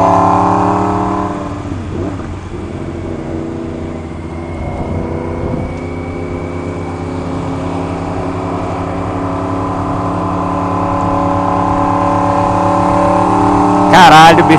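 A 2016 Yamaha R1 motorcycle engine idles and revs low in a low gear, a loud, steady close rumble that swells and dips gently, with a sharp burst near the end.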